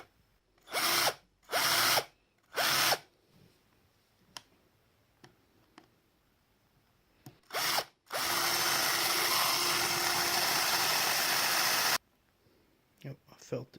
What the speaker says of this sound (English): As we drill the lip off,